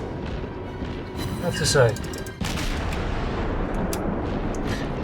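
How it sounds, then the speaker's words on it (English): Naval guns fire in World of Warships, a few booming shots around the middle of the scene, followed by steady engine and sea rumble while someone talks over it. "Not the most impressive sounding guns"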